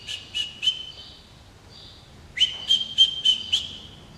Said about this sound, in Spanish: Comenzó a silbar.